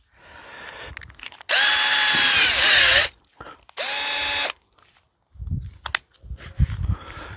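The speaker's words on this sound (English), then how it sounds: "I'll put a couple more screws in there." A power drill drives screws into wood: two loud, steady whirring bursts of about a second and a half each, then short clicks and rattles, with quiet handling noises in between.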